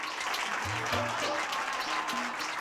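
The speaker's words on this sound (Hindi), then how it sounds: "जोरदार तालियां।" Audience applause breaks out at a TV comedy show, a steady broadband clatter of clapping from a crowd that stays fairly loud throughout, with faint tonal notes of music or voices showing briefly underneath.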